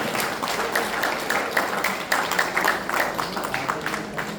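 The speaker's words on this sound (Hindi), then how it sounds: "जोरदार तालियां अपने लिए।" An audience at a motivational business training session applauds loudly, a steady dense wash of clapping lasting several seconds with no pause, fairly close and full.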